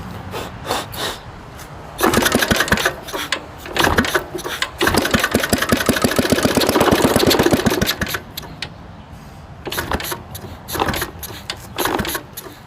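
A Briggs & Stratton flathead engine cranks and sputters, catching into a loud, rapid running burst for several seconds before dropping back to intermittent, uneven firing pulses, close and with no voices.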